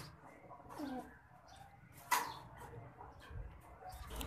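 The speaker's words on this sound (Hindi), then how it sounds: "कबूतर लड़ रहा है भाई अपने मालिक के साथ" A pigeon scuffling with its owner, with soft coos and a sudden flurry of wing flaps near the midpoint, heard close up over faint room noise.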